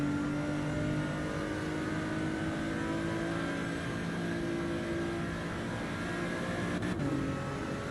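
A race car engine in the racing game Assetto Corsa EVO, with a paddle-shift gearbox, holds a loud, steady high-revving drone throughout with a brief shift blip near the end, while a voice talks over it.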